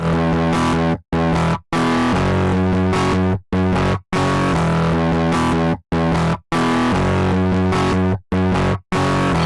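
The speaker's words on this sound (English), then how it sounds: "because there's so much distortion, so much harmonics, like I can't really hear anything" A synth run through a heavy distortion effect in SynthEdit plays loud, harmonically dense buzzing tones, in sustained phrases cut by short, abrupt silences between notes.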